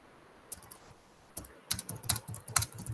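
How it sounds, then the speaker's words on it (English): Keys clatter on a computer keyboard as someone types: a few sparse taps at first, then a quicker irregular burst of clicks, heard close up and with no voices. "I'm just typing"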